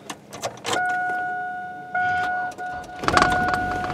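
A 2000 Chevy Blazer with a misfire is cranked with the key: a door-chime-like tone, then the starter churning and the engine trying to catch, fairly close and loud.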